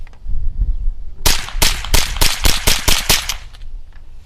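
A semi-automatic rifle fires CCI Quiet ammunition in a quick string of about a dozen sharp, loud cracks, close and fairly regular, after a second of quiet outdoor background.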